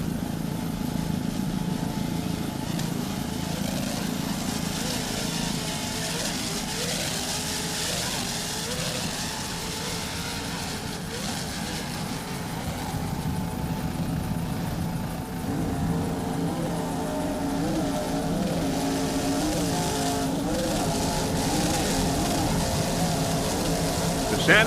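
Marine Technology offshore race boats roaring across fairly calm Atlantic water in a powerboat race finale, a loud sustained multi-engine drone with shifting pitch throughout, far enough off to blend with wind and spray.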